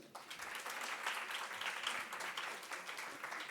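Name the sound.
audience applause for the speaker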